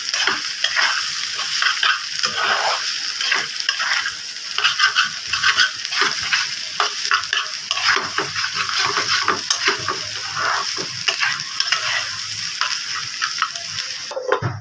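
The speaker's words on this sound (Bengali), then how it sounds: "এভাবে হালকা ভাবে নেড়ে একসাথে মিশিয়ে দিচ্ছি" Papaya and egg fry in a pan and are stirred throughout, giving a continuous close sizzle broken by frequent spatula scrapes and light taps, with no voices.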